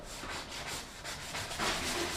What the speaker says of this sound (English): It's kind of tough to get it sanded nice right here